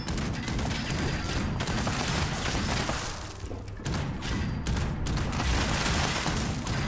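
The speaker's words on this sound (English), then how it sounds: "Who's the genius that gave the NPCs grenade launchers?" NPC grenade launcher explosions in the video game Fallout 76 keep going as a dense barrage of thumps and booms under a constant roar of loud, chaotic combat noise.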